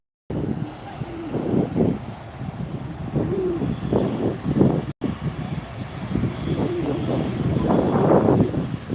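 A Lufthansa cargo airliner lands at Miami at night, its engine roar rising and falling in repeated surges that swell toward the end, with no talk.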